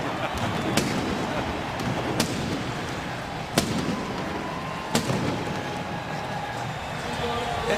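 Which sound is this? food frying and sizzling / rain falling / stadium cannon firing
stadium cannon firing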